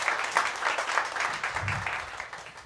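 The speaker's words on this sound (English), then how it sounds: "You can clap for that." Audience applause at a stand-up comedy show in The Met Room, NYC: a steady wash of clapping from a crowd, moderately loud and sustained throughout, tapering slightly toward the end.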